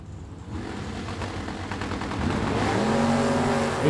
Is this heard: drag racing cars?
yes